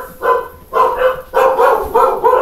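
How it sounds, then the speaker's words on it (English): Several dogs bark loudly and close by in a quick series of sharp bursts. "And the dogs are awake."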